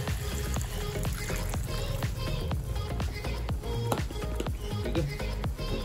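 Water is poured into a pan of browned chicken curry on the stove, a soft, steady trickle and splash with small sizzling ticks throughout, heard up close at low volume.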